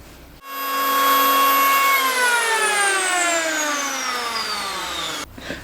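A MacAllister electric planer spinning up and running steadily over a chunk of oak, a loud close whine whose tone gradually drops under load before it winds down at the end.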